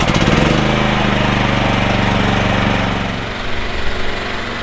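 A Champion 100520 generator engine on natural gas starts with a loud burst, then runs steadily with an even buzzing drone that dips slightly and settles.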